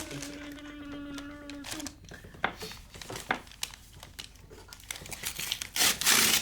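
Crinkly plastic rustling and a quick zip-strip tear as a mailed package is opened up close, with soft voices and bursts of rustle throughout.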